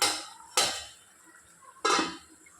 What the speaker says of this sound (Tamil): மூடியை போட்டு சிம்மில் வச்சுருங்க